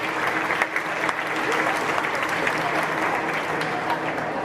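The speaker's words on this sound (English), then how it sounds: "so please give them a round of applause." Dense, steady applause from an audience at a Putnam County supreme showmanship event, loud and continuous with no pauses, filling the whole stretch.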